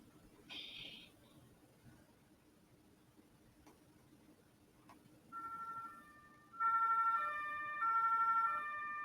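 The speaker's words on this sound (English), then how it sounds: "That's the siren." A synthetic siren tone in train simulator software rises in stepped, harmonic wails over a steady low rumble, getting louder toward the end, with a brief high chirp early on.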